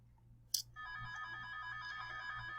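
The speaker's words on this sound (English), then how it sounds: "I'm sorry about the phone ringing in the background." A telephone ringtone warbles steadily in the background behind a short click, continuing in a repeating electronic tone with no talk over it.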